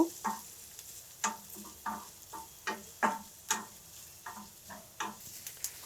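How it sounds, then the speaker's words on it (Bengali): Chopped onions fry lightly in a pan for a spicy lemon-leaf bhorta. Soft, intermittent crackles and stirring taps come at an irregular, roughly half-second pace over a quiet background. There is no talk. "পেঁয়াজগুলোকেও হালকাভাবে একটু ভেজে নিব"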